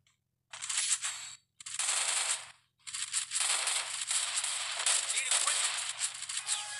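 Rapid bursts of automatic gunfire in a first-person shooter game, loud and close, coming in three long sustained volleys with brief gaps between them and no talking.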